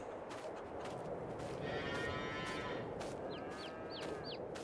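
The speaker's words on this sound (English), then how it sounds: "we can hear the cows from far away" Cattle moo faintly in the distance in a farming video game, over a steady engine-like rumble, a few drawn-out calls rising and falling.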